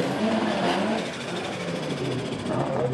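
A Saab-powered front-wheel-drive Vauxhall Corsa drag car at Santa Pod Raceway, a loud continuous engine roar heard at a distance with a steady, slightly wavering pitch throughout.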